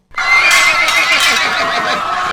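A horse neighs loudly in the Night in the Woods video game, one long, continuous whinny that fills the moment with no talk over it.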